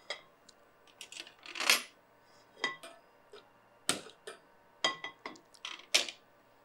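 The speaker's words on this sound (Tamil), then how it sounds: "ஒரு கடாய் அடுப்பில் போட்டுறேன்" A metal kadai is set down on a stove with several clinks and knocks, followed by more scattered light metallic taps and scrapes in a quiet room.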